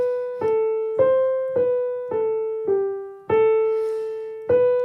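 Piano plays the beginner piece Stepping Stones in plain, evenly grouped notes: seven clear struck tones at a steady walking pace, each ringing and decaying before the next, close and solo with no talking.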